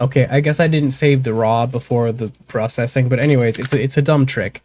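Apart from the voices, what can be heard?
No everyday noise stands out behind the speech.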